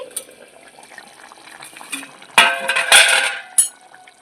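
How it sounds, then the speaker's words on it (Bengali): A metal lid comes off a kadai of mutton curry, giving a few sharp metallic clanks and rattles with soft kitchen noise between them. "ঢাকাটা একটু খুলে নিচ্ছি"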